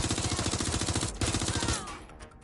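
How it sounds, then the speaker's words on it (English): Rapid video game gunfire, a fast rattling burst of shots that stops abruptly and trails off into a fading tail. "I'm taking fire."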